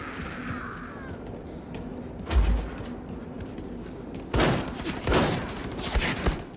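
A rotary barrel gun fires in the video game Wolfenstein II: The New Colossus, with a loud burst near the start and then a longer rattling stretch of rapid shots over a steady background game hum.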